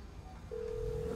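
A phone call is dialed in the GTA 5 video game: after a faint short blip, a steady, quiet electronic tone begins halfway through and holds to the end over low background hum.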